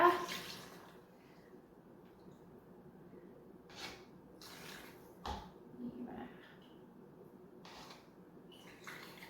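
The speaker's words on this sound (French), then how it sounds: "je vais tout simplement verser du bouillon à l'intérieur" Broth poured into a cooking pot, heard as intermittent splashing, gurgling bursts that stop and start over a steady low background, at moderate closeness.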